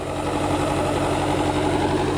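A Bobcat loader's engine runs steadily at idle, a loud, close, continuous rumble with a regular low pulsing throb and no talk.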